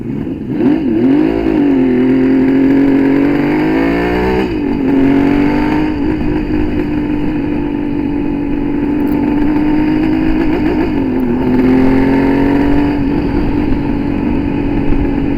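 A Kawasaki 750 H2C two-stroke classic motorcycle on a road test, its engine loud and close throughout as it revs up and down through several rising and falling sweeps, with no talking.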